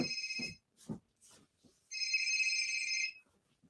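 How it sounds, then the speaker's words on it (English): A phone rings with two bursts of bright electronic tone, the second longer, interleaved with short knocks and rustles nearby; fairly quiet overall with no talking. "My phone's ringing."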